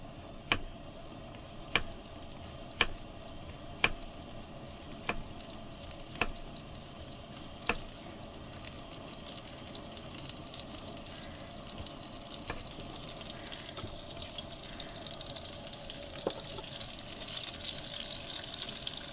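Onion rings and peppers frying in a pan for hamburgers, cooked in a campervan: a soft, steady sizzle. Sharp, evenly spaced taps from a utensil punctuate the first few seconds, then the sizzle carries on alone.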